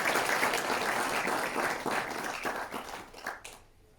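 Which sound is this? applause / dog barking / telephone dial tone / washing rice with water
applause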